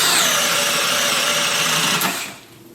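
A DeWalt Atomic DCD794 compact cordless drill whines at steady high speed close by, then releases and spins down near the end, with no talking.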